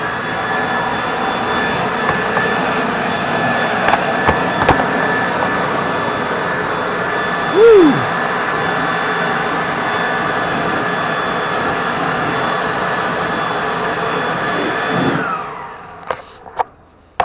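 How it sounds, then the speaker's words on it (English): A small Craftsman plug-in electric leaf blower runs loud and close with a steady whooshing whine for about fifteen seconds, then cuts off into a few scattered knocks. "this little Craftsman blower plug-in"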